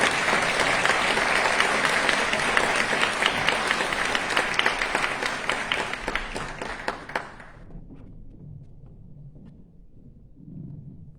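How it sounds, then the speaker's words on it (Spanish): A crowd applauds loudly and steadily for about seven seconds at a book presentation, then the clapping quickly dies away into quiet room noise. "Recibamos con un fuerte aplauso"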